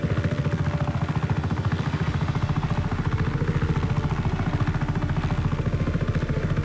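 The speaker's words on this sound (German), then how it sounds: "Also der Helikopter ist sehr schnell." Helicopter flying in the video game Just Cause 3, a fast steady rotor chop pulsing evenly throughout with a continuous engine drone, loud and close with no talk.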